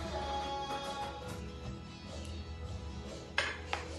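Cooked vegetables (carrot, potato, onion, green beans and tomato) are served onto a plate at home for dinner, with two sharp clinks of utensil against dishware near the end over a steady low kitchen hum.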